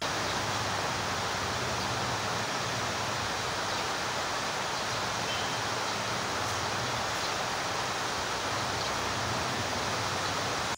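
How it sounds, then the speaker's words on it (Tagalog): Heavy typhoon wind and rain roar in a dense, unbroken wash of noise, loud and steady throughout with no voices. "sa mga oras na to ay palakas na pala yung hangin at ulan"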